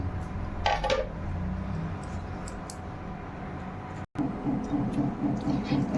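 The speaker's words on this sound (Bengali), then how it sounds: "দেখো এখানে দশ মিনিট হয়ে গেছে তো পকোড়িটা এবার ছেঁকে নেব" Fried spring onion greens pakoras being strained from a pan, with close metallic clinks and scraping of utensil against cookware over a steady background hiss.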